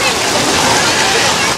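Hot-spring waterfall at Guci pouring in a constant loud, dense rushing splash, close by and unbroken throughout.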